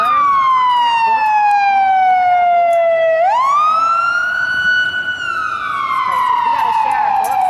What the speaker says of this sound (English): There's an ambulance right now.